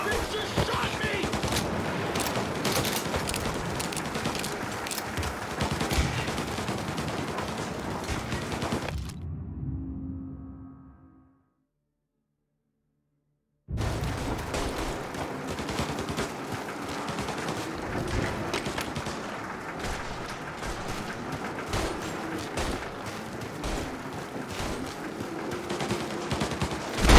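Dense, sustained gunfire from a gangster shootout in Mafia: Definitive Edition, with volleys crackling continuously, a brief silent gap partway through, then the barrage resuming loud and close alongside intermittent voices.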